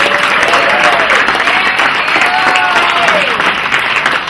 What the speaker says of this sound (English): a round of applause for my wife, Carol.